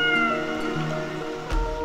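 A cat with strangely bluish fur gives a sustained, tonal meow close by, drawn out over a faint steady background hum.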